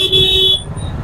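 A vehicle horn gives one loud, steady honk for about half a second, then stops, leaving traffic rumble underneath.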